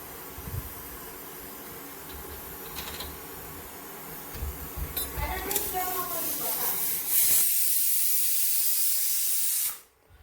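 A kitchen pressure cooker vents steam in a loud, steady hiss that swells near the end and then cuts off abruptly, with voices talking underneath.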